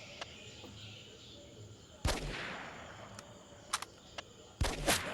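Gunshots in a hunting video game ring out as several sharp, loud cracks spread irregularly over a few seconds, with a quieter background between them.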